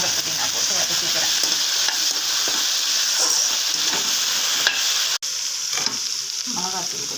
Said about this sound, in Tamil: இப்போ கேரட், உருளைக்கிழங்கு, பீன்ஸ் போட்டு வதக்கிக்கலாம்.